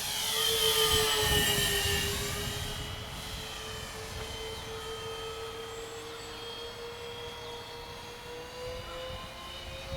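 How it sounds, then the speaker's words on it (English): An Avios Kingtwin 1700 RC scale twin-engine plane flies past, a steady loud engine drone that swells early and slowly fades as it passes, no talking. "It's more of a just scale flyby plane, which is super awesome."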